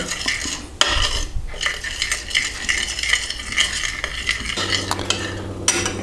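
Natural yogurt being stirred into cloud bread batter in a bowl: a steady run of close, brisk scraping and tapping from a utensil against the bowl, continuing for several seconds with no talking.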